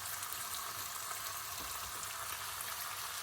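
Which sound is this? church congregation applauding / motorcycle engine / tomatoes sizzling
tomatoes sizzling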